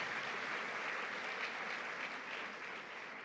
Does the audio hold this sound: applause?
yes